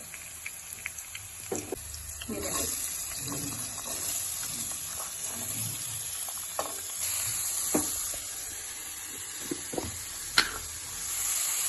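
Mustard seeds, cumin and hing sizzle in a spoonful of hot oil, a steady soft hiss with scattered small pops and crackles throughout.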